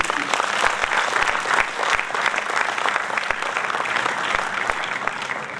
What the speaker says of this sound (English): I would say a big round of applause for the RBI and its team